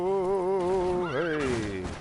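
Roach, the horse in The Witcher 3 video game, lets out a loud, close whinny with wavering pitch that rises in a quiver and trails off, with faint hoof sounds beneath.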